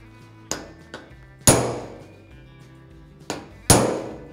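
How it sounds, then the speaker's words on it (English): A big hammer strikes car body metal on a modified car build, landing a few ringing blows with a couple of lighter taps between them, each hit sharp and metallic with a short decaying clang, close by. "Find a big hammer."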